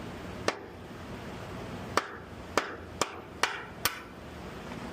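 A dead blow hammer taps out a trunnion bearing cap on an LS or LT driveshaft: six sharp, close, solid knocks spaced unevenly over a few seconds against a quiet shop background, with no talking.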